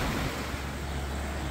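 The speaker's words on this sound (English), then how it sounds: "It's pouring rain, just about freezing, extremely windy." Rain pours and strong wind blows outdoors on a freezing day at a sheep farm, making a dense, unbroken roar with heavy buffeting of the microphone.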